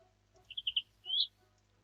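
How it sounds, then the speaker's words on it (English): A small bird chirps alone in a quiet setting: three quick high notes, a short pause, then one longer rising chirp. "Birdie noises."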